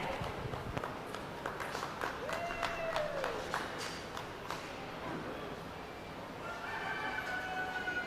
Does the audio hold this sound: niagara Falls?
no